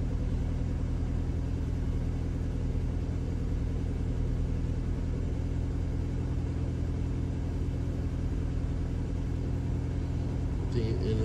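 An Audi A3 with a fuel pressure regulator fault idles steadily with the foot off the gas, a low, even engine rumble running unchanged throughout.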